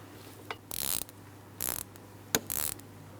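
Ratchet clicking in three short bursts, close and fairly quiet, as a bolt on the intake plenum of a 2003-2007 Cadillac CTS 3.6L V6 is loosened, with a sharp metallic tick between the last two bursts.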